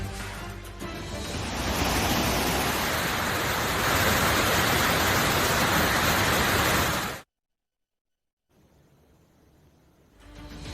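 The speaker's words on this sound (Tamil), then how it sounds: "மேகமலை மற்றும் கொடைக்கானல் வனப்பகுதிகளில் பெய்து வரும் கனமழையால் சுருளி அருவியில் தொடர்ந்து 2வது நாளாக வெள்ளப்பெருக்கு ஏற்பட்டுள்ளது" The Suruli waterfall, flooding after heavy rain in the Meghamalai and Kodaikanal forests, roars with a loud, dense, continuous rush of water that cuts off abruptly, then returns more quietly after a brief silence.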